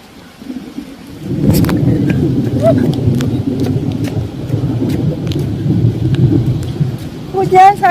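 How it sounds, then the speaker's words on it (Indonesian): Heavy rain pours down on a yard, a loud steady roar of falling water with a few rumbles, beginning after a brief quieter moment. "Hujan, hujan, hujan."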